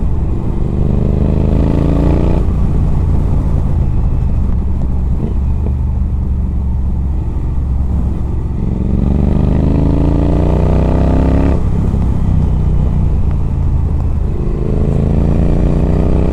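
Modded Triumph Thruxton R motorcycle with an X pipe and shorty cone exhausts, recorded from a helmet mic while riding: loud, steady exhaust roar with repeated rising rev sweeps through gear changes, mixed with wind noise.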